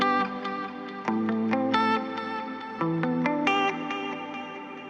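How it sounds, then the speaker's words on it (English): Electric guitar track processed with reverb, delay, EQ and RC20 Retro Color, a melodic line of plucked, shimmering notes with washy echoing tails, full and steady throughout. "RC20 retro color, which adds a little bit of the retro vibe to this guitar track"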